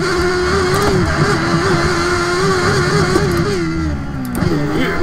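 A Formula One car engine in a racing video game screams continuously at high revs, its pitch climbing and dipping as it is thrown through corners, loud and steady throughout without talk.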